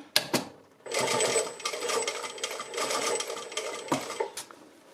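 Sewing machine stitching the collar of a blouse: a few short mechanical bursts, then quick rattling runs of stitches close by, stopping and starting in uneven spurts.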